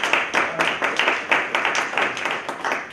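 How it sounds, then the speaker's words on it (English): Applause from an audience at a community gathering honoring a city council member, a steady burst of many hands clapping at close range for about three seconds. "Let's give her a round of applause."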